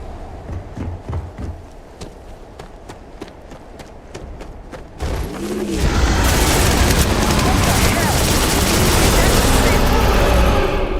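Heavy gunfire and explosive booms in the sci-fi game Starfield swell into a loud, sustained barrage after a quieter stretch of sparse shots and talk, with voices calling out over the noise.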